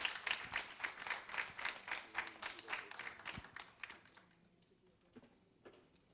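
Audience applause after a conference presentation, a crisp rhythmic burst of clapping that fades out within a few seconds, leaving scattered faint claps and room noise.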